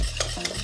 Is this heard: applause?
no